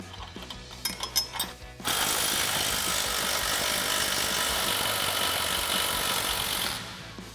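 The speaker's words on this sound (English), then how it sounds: "So now we can take our 18mm swivel socket and our 18mm wrench and remove this bolt." A few sharp clicks and taps from an 18mm swivel socket and wrench come first, then a loud, continuous mechanical rattle as the shock bolt is removed from a Jeep Gladiator JT, ending abruptly.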